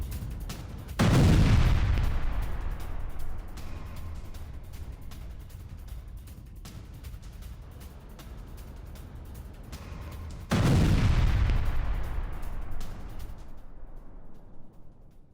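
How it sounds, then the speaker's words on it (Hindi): Two heavy blasts in Chitgar, western Tehran, each striking suddenly and loudly about nine seconds apart, followed by long rumbling decay and scattered crackling between them. "पश्चिमी तेहरान के चिटगर में भीषण विस्फोट हुआ, यह देखिए जरा।"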